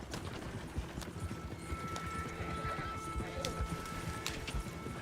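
Horse hooves clip-clop steadily in Red Dead Redemption 2 as a rider pushes the horse along, a quick rolling patter over game background noise and music with some voices mixed in.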